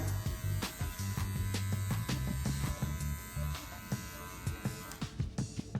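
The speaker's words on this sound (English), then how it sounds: "you can close that clipper about halfway through the number 1, going down a little bit further and scooping into that" Electric hair clippers buzz close up with a steady hum, cutting hair for a fade with the guard lever half closed, and short crisp ticks and scrapes come through as the blade scoops into the hair.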